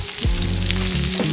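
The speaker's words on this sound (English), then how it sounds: "he's grilling some kimchi here" Kimchi grilling at a rural Korean farm meal alongside pork belly, a steady close frying sizzle with low rumbling hum underneath, no talk.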